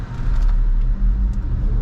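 A Haval H6 GT hybrid SUV accelerating on an empty road, heard from inside the cabin as a loud, deep engine and road rumble that holds steady.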